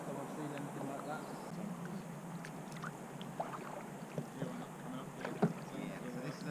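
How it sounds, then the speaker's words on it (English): A canoe paddled beneath a rocky overhang on the Ardèche River: quiet, irregular dips and splashes of the paddle with occasional sharper drips over a soft, steady background, with faint murmuring voices. "this is a nice little paddling under the overhang"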